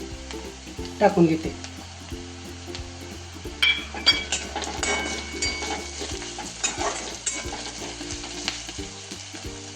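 Crushed garlic sizzling with fried onion in a pan for sprouted moong usal, loud continuous frying with stirring scrapes and metal clinks, a voice speaking briefly over it.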